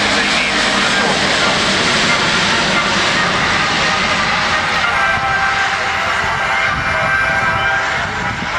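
The engines and propellers of a Lockheed C-130J Hercules roar steadily at an airshow, a loud continuous turboprop drone, with a voice talking faintly underneath.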